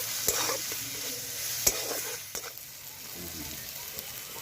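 Spices with turmeric, Kashmiri chili powder and salt fry in a pan, a light sizzle broken by sharp scrapes and clinks of a spoon stirring, fairly close and moderate in level.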